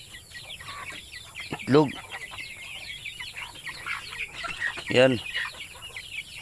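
Native chickens on a farm cluck with a couple of louder calls standing out, over steady background bird chatter and a constant hum, with brief talk in between.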